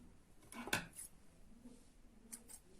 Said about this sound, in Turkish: Makasımızla fazlalıkları alıyorum